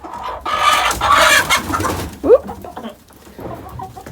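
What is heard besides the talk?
chickens clucking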